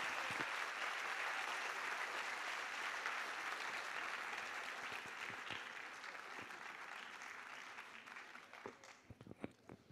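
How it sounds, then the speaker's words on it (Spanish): Applause from an audience at a school cultural night, a dense sustained clapping that slowly thins and fades toward the end, with a few louder individual claps near the close; no voices. "un aplauso extra"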